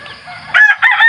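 A mestizo gamecock crows close and loud in two bursts, the second a drawn-out call, after a quiet stretch of faint farmyard murmur.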